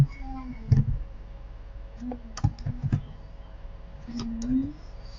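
Computer keyboard keys pressed in short bursts while filling in a school report, sparse close clicks under a person speaking.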